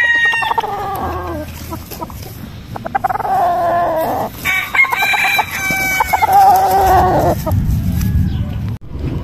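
Gamefowl broodstag roosters cluck and crow nearby, several loud, wavering crows overlapping with clucking, with some voices in the background.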